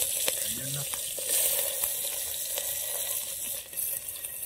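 Oil heating in a pan for egg curry while camping outdoors in a jungle, giving a steady hiss and sizzle that runs evenly throughout with some light clatter, without voices.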